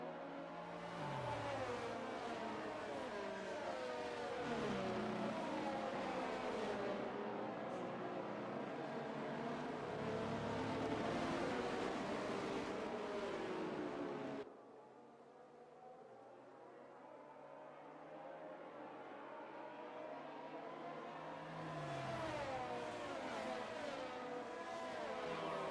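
Race cars in a sim racing video game at Imola drone with a steady high-revving engine whine that rises and falls through gear changes, dropping briefly quieter midway before building again, continuous and without talk.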